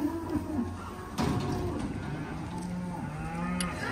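Cattle being herded on a farm, lowing in several drawn-out moos, near and fairly loud, over rustling and shuffling background noise.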